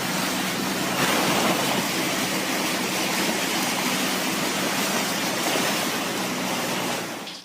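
Floodwater rushes down a street in Boise, Idaho, a loud, steady broadband roar of churning water that holds its level throughout.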